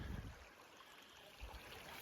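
Grant Brook trickles and burbles through a mountain meadow in Jasper National Park, a steady soft water rush with a faint high whine above it and no voices.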